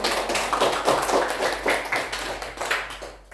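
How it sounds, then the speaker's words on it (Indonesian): Hand clapping in a classroom during a micro-teaching lesson on geometric reflection, a dense burst of claps from a small group that carries on steadily for a few seconds and then stops. "Tepuk tangan."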